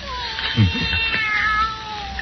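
A cat meows plainly in a black-cat mystery radio drama, a single drawn-out cry rising near the start and fading over a faint murmur of room sound, with no talk over it.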